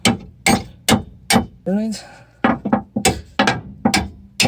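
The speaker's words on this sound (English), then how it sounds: "tap it lightly with a hammer" About ten sharp metallic taps from light hammer strikes on a bolt at a steady pace, fitting front shocks on a Mitsubishi Delica L400, with a brief voice speaking in the middle.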